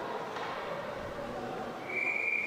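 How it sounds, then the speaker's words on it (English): A referee's whistle sounds at a freshman high school ice hockey game, a steady high tone emerging late over the arena's murmuring background noise. "Not sure what the whistle is for here"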